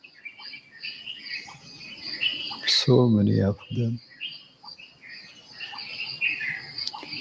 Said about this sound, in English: Here are trees, birds are singing,